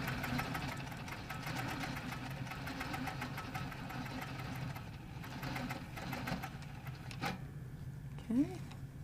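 A sewing machine runs steadily while quilting with a ruler. Its rhythmic stitching is quiet and close, then it stops near the end with a brief clunk.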